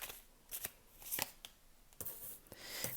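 Animal oracle cards are shuffled and drawn by hand, giving quiet, irregular riffling bursts and soft slaps spread over a few seconds.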